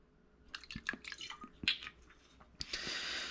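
White vinegar splashes and drips from a container into a bowl of raw vegan pesto ingredients, a few close liquid plinks followed by a short, steadier pour.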